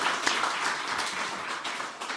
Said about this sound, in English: How about a round of applause for Zena and her team for their effort that